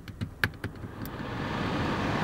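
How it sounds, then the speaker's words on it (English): A Honda car with the air conditioning running, its compressor giving a few sharp rattling clicks near the start before settling into a steady low engine and fan drone, close by, with no talking. "Now that noise you hear, it's the air conditioning compressor."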